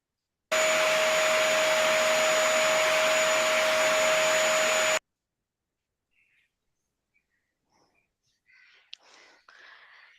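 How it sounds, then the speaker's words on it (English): A high-powered hand dryer in a washroom roars loudly and steadily for about four seconds, then cuts off abruptly, leaving near silence with faint scattered rustles and small clicks afterward. "this sound seems to be of that high hand dryer which is there in the washrooms"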